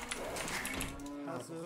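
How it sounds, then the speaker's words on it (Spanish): Cows moo in a video game, a drawn-out low bovine call with a wavering pitch that holds for over a second, fairly loud and clear against faint game background noise. "Encima son vacas ahí,"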